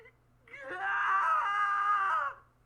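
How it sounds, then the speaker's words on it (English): A single drawn-out scream rises, holds for nearly two seconds and fades, sounding a short distance away with a faint echo over a quiet low hum. "A scream echoes from a short distance away."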